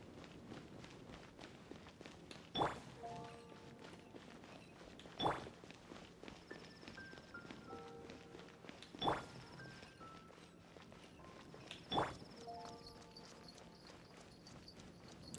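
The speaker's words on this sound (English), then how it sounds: "Oh, she's got the bare feet sound." Soft bare-footed steps of a character walking in Genshin Impact land at a slow, even pace, four clear footfalls spaced a few seconds apart over quiet game ambience and faint musical tones.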